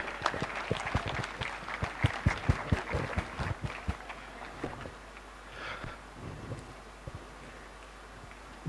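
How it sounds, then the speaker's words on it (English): Clapping from an audience at a tennis event, the L&T Mumbai Open WTA 125, for an official: sharp individual claps early, thinning and fading into scattered claps and ambient noise. "Can we have a big round of applause for Praveen sir as well?"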